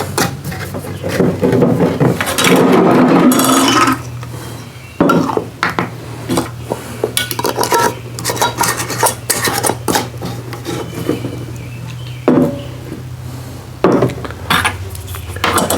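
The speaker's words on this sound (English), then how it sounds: "I'll put some lids on this." Metal lids clatter and scrape as they are fitted onto glass jars of root beer moonshine, a close, busy run of clinks and rubbing with no talking.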